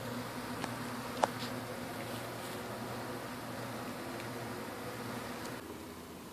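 Honeybees buzz during a hive cut-out removal in Haines City, Florida, a faint, steady low drone with a few brief clicks and knocks over it.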